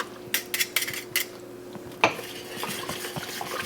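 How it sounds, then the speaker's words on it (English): A whisk works through a bowl of turkey wing gravy mixture in a kitchen, giving quick metallic scraping strokes in short bursts and then a sharper clink followed by softer, steady stirring. "Now once I have that, I'm going to go in with our whisk."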